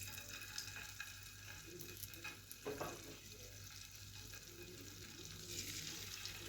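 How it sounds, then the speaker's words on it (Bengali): Cauliflower pieces dropped into hot oil in a frying pan over a medium flame, giving a steady soft sizzle with a brief louder burst of crackling midway. "এখন আমি সবকটি ফুলকপির টুকরোগুলোকে একে একে তেলের মধ্যে দিয়ে দেব।"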